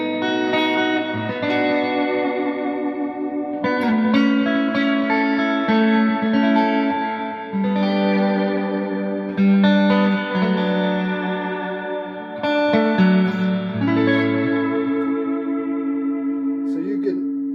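Eric Johnson signature Virginia Stratocaster electric guitar played through a delay effect, sustained chords and melodic notes ringing loud and close, with repeats trailing into each other continuously.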